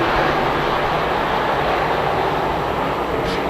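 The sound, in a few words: modified race cars racing out of corner one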